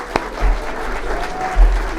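An audience claps for the nominees at the 2021 Sheffield City Region Apprenticeship Awards ceremony, a brief, dense, steady wash of applause filling a large room.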